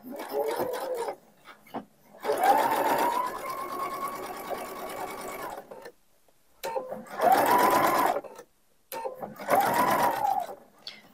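Domestic sewing machine stitching patch pockets with flaps onto fabric, running in three or four close bursts of steady rapid whirring, one long and several short, separated by brief pauses.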